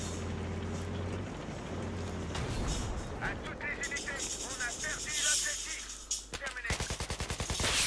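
Gunfire in the video game Battlefield 3, with bursts of rapid automatic shots and heavier blasts amid loud battle noise, ending in a fast rattling volley near the close; someone talks over it.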